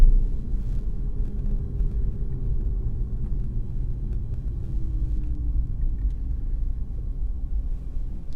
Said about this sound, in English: kind of like the electric car slight quiet whine instead of the petrol engine noises you experience in most cars